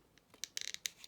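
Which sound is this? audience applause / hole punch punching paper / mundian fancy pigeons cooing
hole punch punching paper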